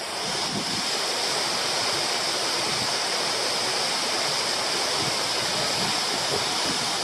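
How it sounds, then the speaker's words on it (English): Pelverata Falls in Tasmania, a very tall waterfall, roars in a loud, constant, broadband rush heard up close without a break, no talking. "it's still a very big waterfall."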